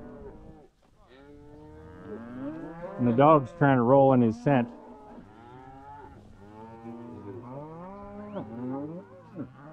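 Cattle on a ranch moo in long, drawn-out calls. One loud, bellowing moo rises in the middle while someone speaks briefly near the start.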